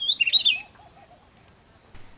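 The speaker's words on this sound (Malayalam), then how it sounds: "ഇതുപോലെ ഇവിടെ കുറേ കിളികളുണ്ട്." A bird gives a quick burst of high, bright chirps, followed by a softer run of repeated calls fading into quiet outdoor forest ambience on a hill trail near Kottathavalam waterfall.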